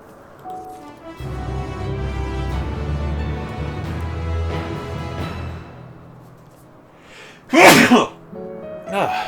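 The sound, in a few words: sneeze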